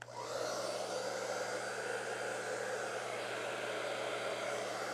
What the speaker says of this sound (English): I'll use a blow dryer because it's faster.